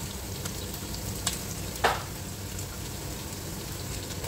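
Onions fry in a pan with garlic, making a steady, fairly quiet crackling sizzle, broken by a soft tap and then one sharp scrape or clink near the middle.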